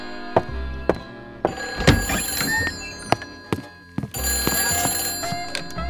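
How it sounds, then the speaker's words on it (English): A telephone rings in short repeated bell bursts, loud and close, broken by a few sharp knocks and thumps, with no voices. "Oh, the phone is ringing."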